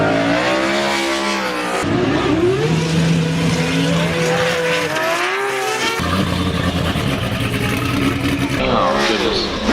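Formula Drift cars at Gateway Motorsport Park, engines revving and screaming loudly with tire squeal throughout, a commentator talking over the racing noise.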